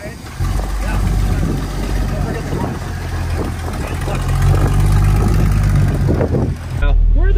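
A Jeep engine runs with a steady low rumble at the Off Road Games, just before a ride over rocks. Voices talk over it, and the engine swells louder near the end.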